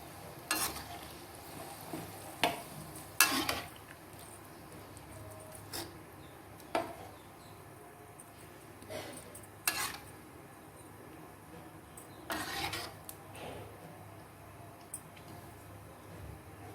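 Beef karahi cooks in ghee with a faint steady sizzle, broken by intermittent scrapes and clinks as a spoon stirs the meat in the pot. No talking.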